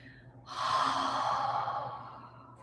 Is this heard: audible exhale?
yes